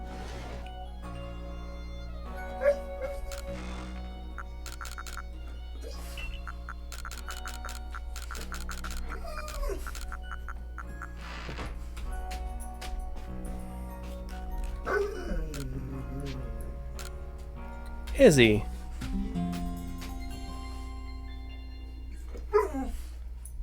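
Izzy the dog barks, yips and whimpers on and off at close range, with some high whines between the barks, and a person briefly calls the dog's name.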